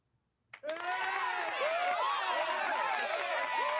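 After a brief quiet moment, applause bursts in abruptly and continues as a full, steady crowd clapping with some cheering voices mixed in.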